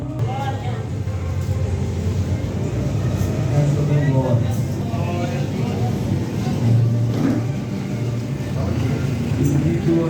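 A car passes by on the road, its engine a low rumble swelling and fading over about ten seconds beneath a man's speech.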